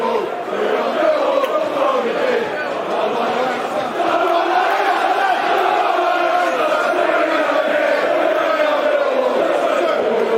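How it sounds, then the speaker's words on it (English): Millwall supporters at a home football match against Bristol City chant loudly and steadily in a dense, sustained crowd roar that fills the whole stretch. "Crowd getting behind the Lions"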